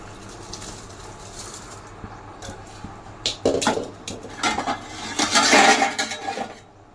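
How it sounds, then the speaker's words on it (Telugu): Rice drops into hot water in a cooking pot for pudina rice, giving a few scattered taps followed by a louder burst of clattering and splashing close by, with no talk. "ఇప్పుడు ఇందులో రైస్ వేద్దాం"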